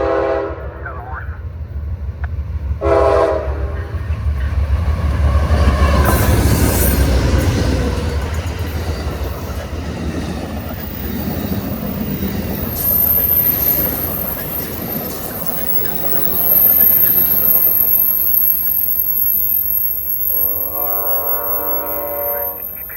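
Eastbound Amtrak California Zephyr passenger train led by locomotive 71 passing through Springville, Utah, on the Provo Subdivision; loud rumbling wheels and rail noise build as it passes, with horn blasts at start and end and brief radio chatter.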